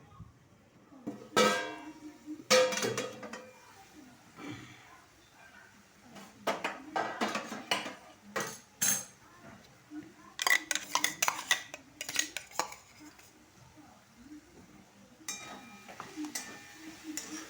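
Onion is stirred in a pan with a spoon, making repeated loud metallic clatters and scrapes in irregular bursts over a quiet kitchen background, with a brief trace of voice.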